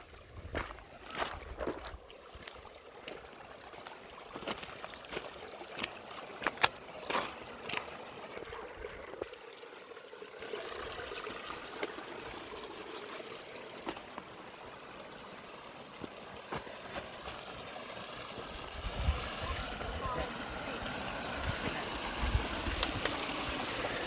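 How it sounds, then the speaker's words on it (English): High mountain stream of clean snow runoff water on Steens Mountain, a continuous close rushing and trickling flow with scattered small splashes and knocks, running steadily throughout without speech. "Got some clean water. Got some high mountain snow runoff."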